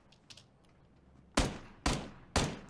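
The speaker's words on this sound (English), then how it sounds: "Taking out Bubble Junk there with the headshot." Video game gunfire during a competitive match: three sharp, loud shots about half a second apart, each with a short decaying tail, preceded by a couple of faint distant pops.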